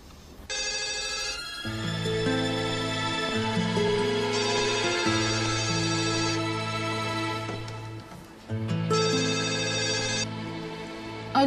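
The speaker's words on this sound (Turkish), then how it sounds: "Çalıyor." A phone's ringtone plays a repeating melodic tune through a handset while a call is being placed, steady and clear with brief pauses between the looping phrases.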